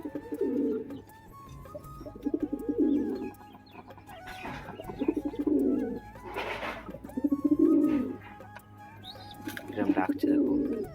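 Pigeons coo repeatedly close by, low throaty bursts returning every couple of seconds, with other birds and faint background voices in between.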